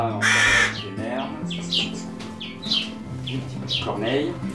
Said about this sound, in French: une petite corneille.